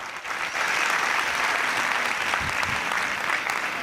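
Dense, steady audience applause fills a hall at a community talk on women's investment in Pimpri Chinchwad, sustained and even throughout without a break.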